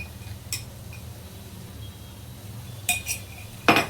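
A spoon scraping and clinking against a pan while ghee and cardamom powder are stirred into semolina for pineapple sheera, a few brief metallic taps over a low steady background hum, the sharpest clink near the end.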